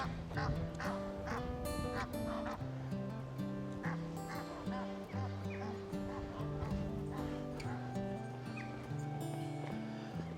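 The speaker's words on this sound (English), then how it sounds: "There's some ducks there." Several ducks, including mandarin ducks, quacking in a busy, overlapping chorus outdoors at Holkham Estate, with geese and other waterfowl calls mixed in, continuous throughout.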